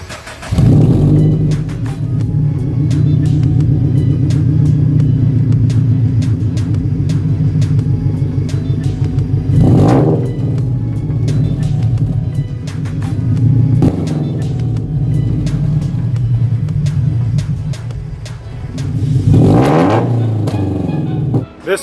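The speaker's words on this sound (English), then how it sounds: "the muffler delete with the unequal length headers and stock front pipe is the best sounding one" A Scion FR-S with a muffler delete, unequal length headers, a stock front pipe and a stage 2 tune rumbles loudly at close range, its deep burbling idle broken by three sharp revs that flare and fall back, with no talk.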